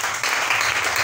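A church congregation applauds in praise during a French-language baptism service, with steady, moderately faint clapping from many hands sustained for about a second.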